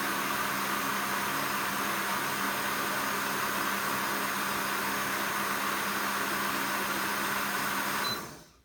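Loud, steady whirring roar of a blender blending aloe vera continuously, then cutting off abruptly near the end.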